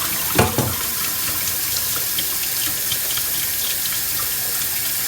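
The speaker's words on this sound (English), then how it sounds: "we're just going to pour cold water on this." Cold tap water runs steadily over quinoa in a kitchen, a continuous close hiss and splash after a couple of brief knocks at the start.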